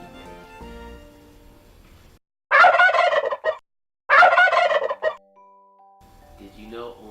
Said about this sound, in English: Did you know only male turkeys make the gobble sound?